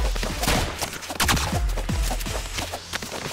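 Rapid bursts of bullet fire in the video game Rounds, dense crackling volleys crowding one another in close succession, loud and steady with no talk over them.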